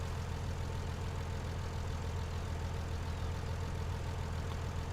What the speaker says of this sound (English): We're revving it out a bit.